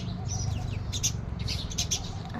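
House sparrows chirp in short, bright bursts near a home bird-feeding spot, close and moderately loud over a steady low background hum.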